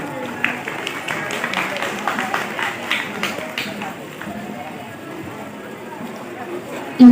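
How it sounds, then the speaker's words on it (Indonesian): Applause from a school audience at a madrasah opening ceremony, a dense crowd of clapping that swells then tapers off over several seconds, with murmuring voices mixed in. "Kita berikan tepuk tangannya."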